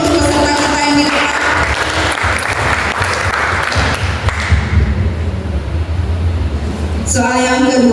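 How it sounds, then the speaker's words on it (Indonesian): An audience at a quiz competition applauds a contestant with loud, dense clapping that holds steady for several seconds, while brief musical tones sound at the start and end. "aplaus dulu untuk peserta kita yang didapat"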